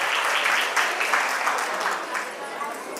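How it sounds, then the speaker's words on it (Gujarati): A crowd at a community reunion gathering claps for the donors: dense, steady applause from many hands that holds strong and then tapers slightly toward the end. "તાળીઓથી વધાવીએ"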